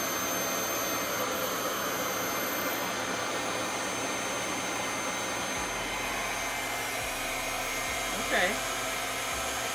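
A RevAir reverse hair dryer on low heat gives a steady, loud whooshing roar that holds through the whole stretch, with a brief spoken word near the end.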